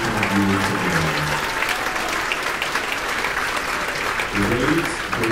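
A large audience at a school awards ceremony applauds in a long, dense wash of clapping and cheering, filling the hall steadily, with a voice speaking over the start and end.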